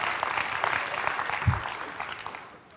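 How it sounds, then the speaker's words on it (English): Conference crowd at an OSCON keynote breaks into applause, a moderate wash of clapping from the hall that gradually thins and fades toward the end. "I don't know why you guys are clapping about that"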